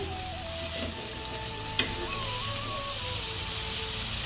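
Tempering for vegetable sagu frying steadily in a pan, a continuous close sizzle with a brief sharp crackle partway through and no voices.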